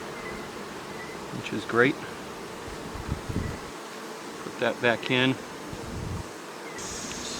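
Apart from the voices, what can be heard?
honeybees buzzing around an open hive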